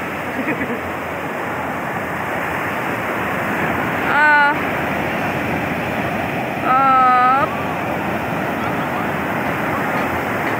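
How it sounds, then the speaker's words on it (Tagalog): Heavy surf roars continuously nearby, with wind buffeting the microphone; two brief high-pitched voices or calls cut through the wave noise. "Ang lalakas ng alon dito."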